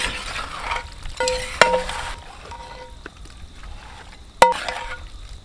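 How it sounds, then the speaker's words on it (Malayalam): A spoon stirs thick chicken masala for biryani in a pot, scraping and clinking against the metal in bursts, with a couple of sharp knocks and soft sizzling. "അപ്പോൾ ഇത് നല്ല രീതിയിൽ ഇങ്ങനെ ഇളക്കി യോജിപ്പിക്കാം."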